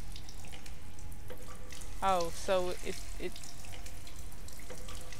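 A water tap runs steadily in the video game Stasis, a constant rushing hiss that lasts the whole time while someone briefly speaks over it.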